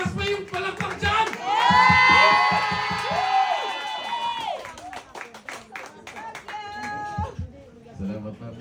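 An audience of Filipinos at a meet-and-greet for a senator claps and cheers, a crowd roar with whoops rising under a loud voice on the microphone, then fading as talking continues.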